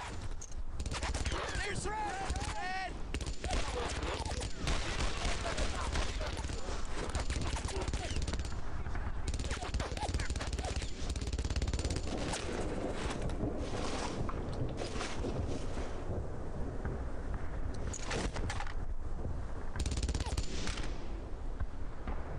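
Enemy machine gun fire rattles through a Brothers in Arms battle in dense, continuous bursts, with gunshots layered over a constant roar of wind and battlefield noise.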